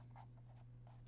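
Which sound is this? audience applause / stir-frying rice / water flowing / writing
writing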